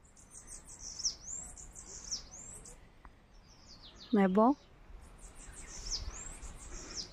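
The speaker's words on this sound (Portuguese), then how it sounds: "E fico aqui, ó, só ouvindo os pássaros" Birds chirp and sing in quick, high trills against a quiet rural countryside background, and a person speaks briefly midway.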